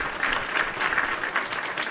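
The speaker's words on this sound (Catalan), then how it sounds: "Un aplaudiment per aquest senyor." A studio audience applauds a man, a brief, even spell of many hands clapping together at moderate loudness, with no talking over it.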